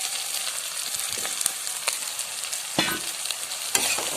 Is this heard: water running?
no